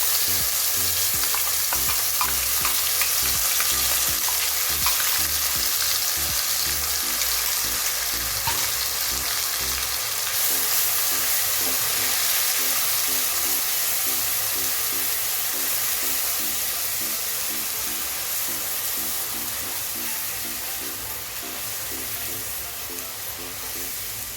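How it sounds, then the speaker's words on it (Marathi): Ground masala and tomato for a fish curry sauté in a hot pan, a steady loud sizzle with rhythmic scraping and stirring throughout, slowly easing toward the end. "मसाला चांगला परतून घ्यायचा आहे आपल्याला"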